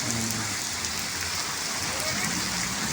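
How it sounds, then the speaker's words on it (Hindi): Steady rain falling outdoors during a storm that also brought hail, a dense even hiss with no breaks, while a voice is faintly present underneath. "आहा बारिश लग गई है बारिश बारिश।"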